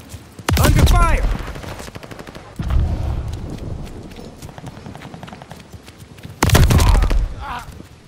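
Gunfire in the World War II shooter Call of Duty: Vanguard: two loud, rapid bursts about six seconds apart, each lasting under a second and trailing into echoing battlefield rumble and quieter distant shots.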